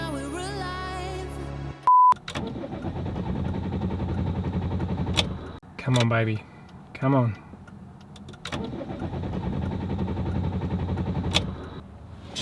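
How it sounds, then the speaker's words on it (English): A van that lost power with its engine light on gives two long bouts of labored starter cranking without catching. A dashboard beep comes between them, music plays briefly before, and a voice speaks between attempts. "The engine light came on, the van lost power, and now when I try and turn it on"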